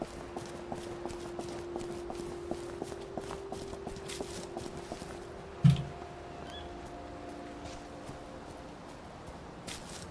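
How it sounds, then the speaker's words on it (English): Soft, steady footsteps in the video game We Happy Few, a quiet regular patter of steps under low ambient hum, with one brief louder thump partway through. "Footsteps seem especially loud today."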